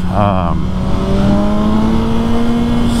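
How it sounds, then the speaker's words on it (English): A 2023 BMW S1000R naked motorcycle's inline four-cylinder engine revs steadily and loudly up close, its pitch climbing gradually through a sustained run with a smooth, dense drone. "the inline 4-cylinder engine on this motorcycle does have a very unique sound and feel to it"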